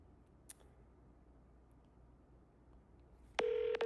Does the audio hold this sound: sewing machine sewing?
no